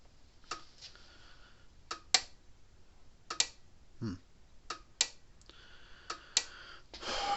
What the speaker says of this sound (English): Clicking right along there.